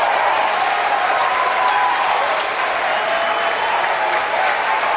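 A crowd cheers and applauds loudly and continuously for a Falcon 9 first-stage rocket landing, a dense unbroken roar of clapping and excited voices.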